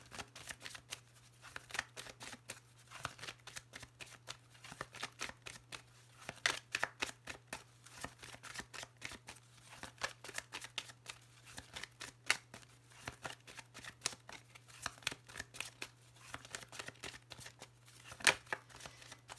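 Lenormand cards being shuffled by hand in a quiet room: a long run of soft, rapid riffling and flicking, with the occasional sharper snap, close up and with no talk.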